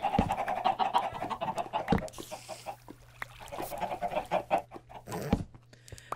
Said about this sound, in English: Look at all the cave chickens!